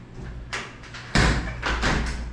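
The front door of a house in Vieques, Puerto Rico, opens with a few soft knocks, then a louder, heavier thud of the door moving, close by and with no one talking.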